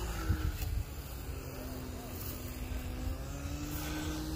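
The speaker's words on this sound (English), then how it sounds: "More and more planes." RC model jet planes fly over an outdoor RC racing field, giving a steady, moderately distant turbine whine with a sustained droning tone and a short louder burst near the start.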